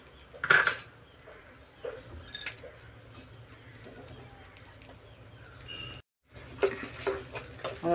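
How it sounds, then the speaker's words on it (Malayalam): Rava kesari with fried cashews and raisins is stirred in a pan, giving light utensil clinks and scrapes against the metal at close range, with a brief pause near the end. "അതുകൂടെ ചേർത്ത് നല്ലോണം ഒന്ന് മിക്സ് ചെയ്ത് കൊടുക്കുക."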